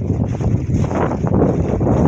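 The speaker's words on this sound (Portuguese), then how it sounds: "Aqui tá ventando um pouco" Strong outdoor wind buffets the microphone on a street outside a bakery: a continuous loud, rumbling roar with gusty surges throughout and no speech.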